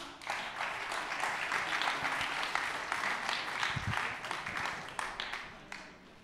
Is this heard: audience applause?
yes